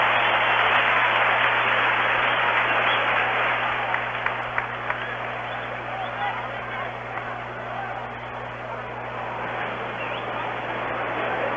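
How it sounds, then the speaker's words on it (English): Home crowd at a 1965 Yankees–Astros exhibition baseball game in Houston, cheering and applauding as the Astros in home whites take the field, a steady broad roar with scattered claps and murmur throughout. "Now the Astros and their home whites go out to take the field, and you can hear the home crowd reaction."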